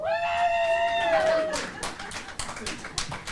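Audience applause breaks out at a sports hall of fame induction ceremony, scattered sharp claps following a sustained voiced tone, moderately close and thinning out.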